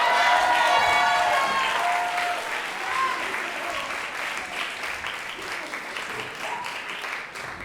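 Concert audience applauding a school jazz combo group, a dense sustained wave of clapping that starts strong and slowly tapers over several seconds, with some voices mixed in.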